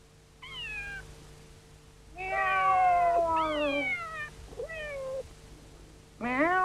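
A boy in a film mimics a cat with a series of drawn-out meows as a signal, several separate calls with pauses between, close and clear with no other talk.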